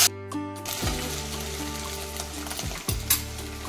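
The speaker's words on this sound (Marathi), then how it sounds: "त्यामध्ये आता आपण जिरं टाकणार आहोत" Cumin, garlic and peas sizzling in hot oil in a pan, a steady crackling fizz with stirring scrapes and clinks over a low background hum, close-up.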